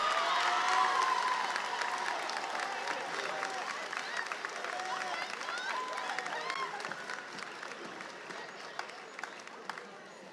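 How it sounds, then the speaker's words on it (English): Graduating high school class and audience at the Cleveland School of Architecture & Design 2024 commencement break into sustained applause and cheering, a dense wash of clapping with whoops, gradually easing over ten seconds, with voices mixed in. "let's give a round of applause for everyone here for finally being done with high school"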